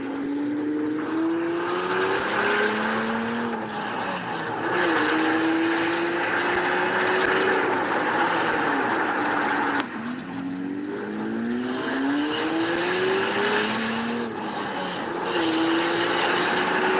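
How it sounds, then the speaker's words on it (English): A turbocharged sleeper minivan engine revving and pulling through gears, rising pitch sweeps that drop at each shift, loud and sustained across the whole stretch with no talking. "here's a little sneak peek of the turbo sleeper minivan"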